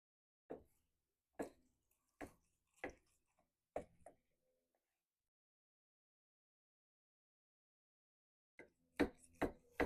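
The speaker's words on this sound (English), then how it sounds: "Let's slice into it and see how we did." A knife cutting through a smoked meatloaf, five soft separate chopping taps about a second apart, then a quiet pause and a quicker cluster of four or five taps near the end, close and faint.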